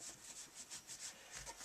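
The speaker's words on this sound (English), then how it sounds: "giving it a full sanding down as well" Rhythmic back-and-forth sanding strokes on a Honda CB200 motorcycle swing arm, a steady scratchy rasp repeating about twice a second, close and moderately loud with no talking.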